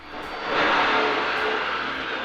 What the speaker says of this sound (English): That is the sound of major construction happening next door.